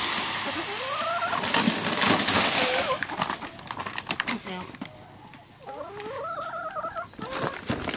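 Several chickens cluck and squawk nearby, with rising, warbling calls repeating over a busy, rustling background.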